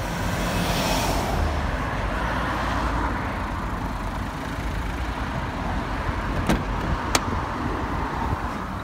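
A manual car pulls out of a parking spot during a driving exam, its engine a steady close rumble with road noise and two sharp clicks near the end, with no talking.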